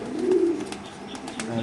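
Giribaz pigeons cooing at a market stall, a low throaty coo near at hand with faint rustling and bird chirps behind it.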